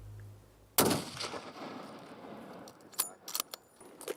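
A single rifle shot during a West Texas aoudad hunt, one sharp, loud crack followed by a decaying rumble, then scattered clicks and clatter like the rifle action being worked.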